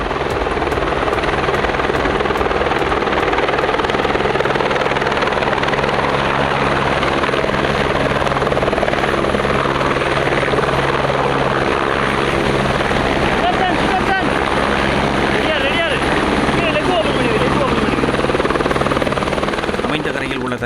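A helicopter carrying a donor heart from Thanjavur to Chennai gives off a loud, steady rotor thrum and engine whine throughout, with a voice talking over it.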